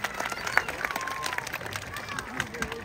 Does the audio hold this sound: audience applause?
yes